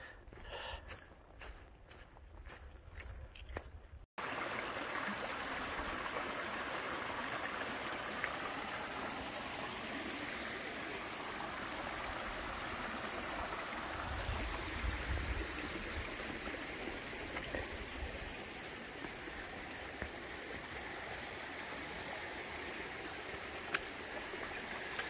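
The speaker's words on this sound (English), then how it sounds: "this is Three Forks Creek" Three Forks Creek on the Appalachian Trail flows with a steady, full rushing and burbling of water, close and constant after a brief quieter opening with a few faint clicks.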